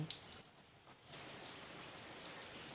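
Steady rain falls outdoors in Thailand, a soft continuous hiss of drops pattering on surfaces, growing denser and a little louder after the first second and continuing alone without voices.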